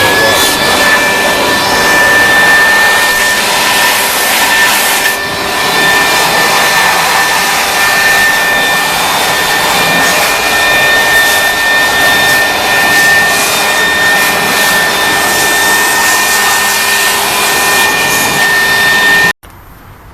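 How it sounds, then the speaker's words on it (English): A leaf blower roars loud and close as it blasts water off the engine of a 1978 Chevrolet El Camino. The high-pitched, whining rush holds steady for about nineteen seconds, then cuts off abruptly. "Use this leaf blower."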